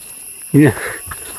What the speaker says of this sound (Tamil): இந்த ஒரு வண்டு கத்துற சவுண்டு கேட்குதா